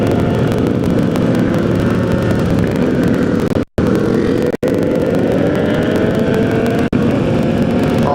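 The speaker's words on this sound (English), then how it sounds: "Those Harley wheelies, man." Harley-Davidson motorcycles on a large group ride give a loud, continuous engine roar with steady rumble and wind noise, heard close up and broken only by a couple of brief dropouts.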